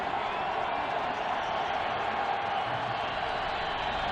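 A packed stadium crowd at an NFL Jaguars home game against the Redskins fills the air with a constant, distant roar that holds at an even level throughout.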